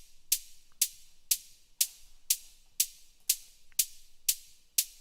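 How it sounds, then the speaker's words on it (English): An open hi-hat loop built from a recorded sound hisses in a steady rhythm of about ten bright, airy hits, each decaying quickly, alone and fairly quiet with a touch of drum-room ambience. "an open hi-hat loop that I created also here."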